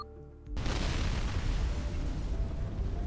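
A sudden explosion blast in the Love and Deepspace video game bursts in after a half-second of quiet. A dense, rumbling roar follows and stays loud through the rest of the moment.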